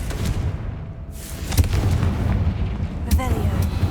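Fire spell explosions in the Hogwarts Legacy video game, sharp booming bursts at about 1.6 and 3.1 seconds over continuous game background rumble.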